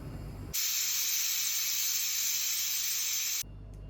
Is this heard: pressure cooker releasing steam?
yes